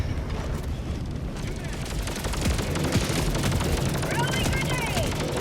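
An autocannon sentry firing in the video game Helldivers 2, heavy rapid bursts and booms in a dense, loud battle din, with a voice talking over it.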